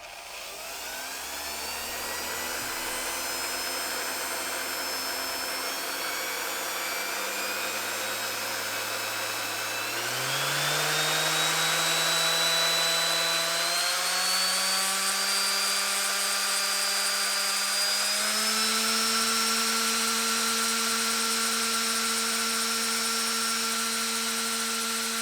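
A Makita random orbit sander runs at its max setting of 12,000 OPM, a loud steady motor whine heard close up that steps up in pitch in stages, with no talking.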